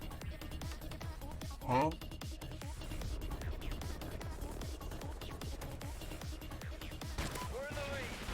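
Rapid gunfire bursts in the video game Call of Duty: Ghosts play as dense crackling shots throughout, with one louder burst early on, under players talking over the action.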